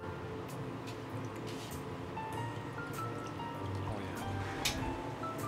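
Water poured into a PC water-cooling loop, pump and reservoir, a soft ongoing trickle and bubbling with light drips and gurgles, close and fairly quiet.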